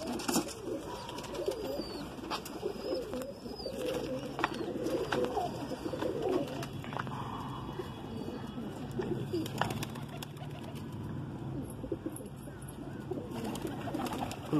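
A Madrasi pigeon, a female with white flight feathers and white beak and clipped wings, coos steadily at close range alongside other birds chirping in the background, with no talk.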